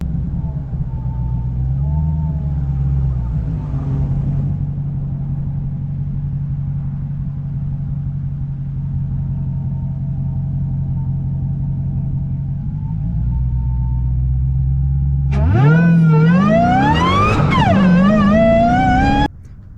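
Supercharged Dodge Challenger Hellcat Redeye Super Stock V8 rumbles steadily at idle, then revs hard near the end with a loud, rising supercharger whine before cutting off abruptly.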